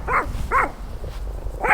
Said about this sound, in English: My neighbor dog always barking like he's finna do something,